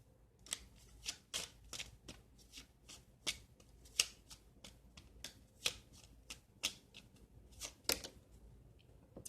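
Tarot cards shuffled and drawn, a quick string of soft crisp card flicks and snaps with brief pauses, close and fairly quiet with no voices.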